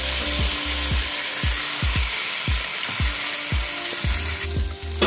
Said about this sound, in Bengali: এটাকে আমি একটু নাড়াচাড়া করবো এবার।